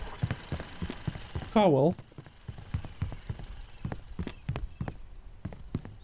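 Horse hooves clip-clopping in the crafting game The Faraway Land, a steady close rhythmic clatter running throughout, with a brief whinny and game chimes, under a talking voice.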